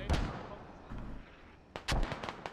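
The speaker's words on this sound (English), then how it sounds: "Honey Badger tosses a frag. Oh, doesn't take anybody out. Could have been deadly." Video game frag grenade blast and gunfire in a tactical military match, heard as a few sharp booming cracks with a rumbling tail, fairly close and loud, without talk.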